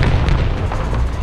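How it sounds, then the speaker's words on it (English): A Swedish anti-aircraft gun in War Thunder fires a rapid series of heavy, booming shots close by, each loud report blending into a dense, continuous barrage. "It's a Swedish AA, and now he's going to sit here and start blasting away."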